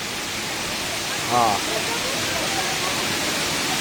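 Fresh flowing stream water where people bathe, a steady broad rushing wash heard close and continuous, with a short voice exclamation briefly rising over it.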